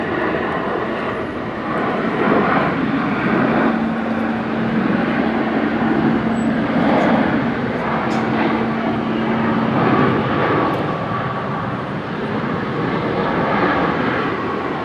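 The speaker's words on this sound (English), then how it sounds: "Hearing some reverse thrust action there from one of the Virgin 737-800s" A Virgin 737-800 landing at Brisbane airport roars loudly and steadily under reverse thrust, a dense broadband rush that holds for about fifteen seconds with a faint tonal hum running through it.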